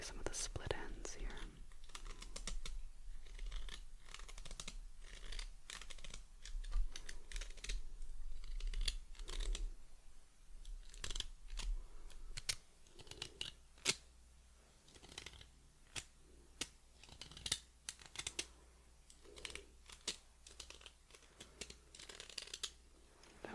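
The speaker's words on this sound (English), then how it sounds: "I'm just lightly trimming some of the split ends here." Light snips of small scissors trimming split ends of hair, in quiet close-up crisp clicks repeated in an uneven rhythm, with soft handling rustles between them.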